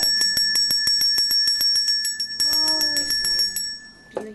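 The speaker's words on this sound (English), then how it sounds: "Then a bell." A small bell rings in a rapid string of bright, repeated dings, fairly close and clear, then pauses and gives a final ring near the end.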